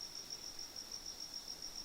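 Looping cricket ambience from the video game Danganronpa, a steady high-pitched chirring trill that pulses evenly and continuously without any talk.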